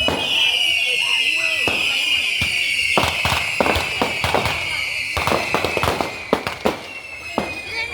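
Firecrackers crack in a rapid, irregular string at a seaside Ganesha temple festival, loud close pops layered over a steady high whistling tone, with people talking throughout.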